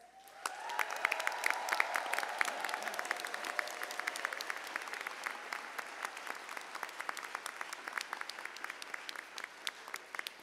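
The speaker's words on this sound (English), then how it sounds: "Let's have a round of applause for our graduates." Sustained applause from a large audience for graduates at a university graduation ceremony in a theatre hall, dense clapping swelling quickly and holding steady, with faint crowd noise underneath.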